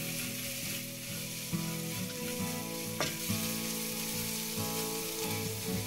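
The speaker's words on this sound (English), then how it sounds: "Now we'll add the green chilies and the onions. We'll stir fry until the onions are softened." Green chilies and onions stir-fried in a pan for rice vermicelli upma, a loud continuous sizzle with a few soft stirring scrapes and one sharp clink.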